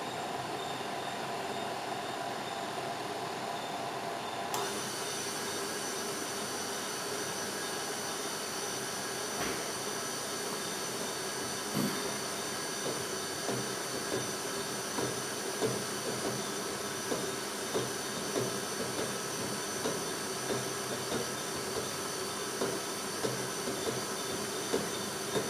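A stand mixer kneads bread dough at slow speed, a steady mechanical hum and whir that runs throughout with a faint, regular ticking rhythm.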